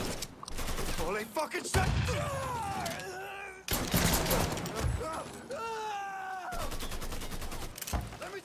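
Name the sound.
gunfire in the video game Mafia 3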